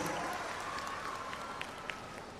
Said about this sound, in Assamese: সকলোকে হাত চাপৰিৰে তেওঁলোকক অভিনন্দন জনাবলৈ অনুৰোধ জনাইছোঁ।